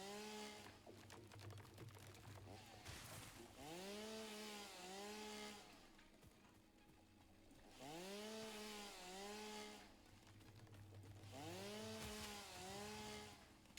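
A chainsaw from the video game Satisfactory, felling trees and foliage. It revs in repeated bursts: a buzzing motor rises and falls in pitch, cycles several times and drops to a lower idle between cuts.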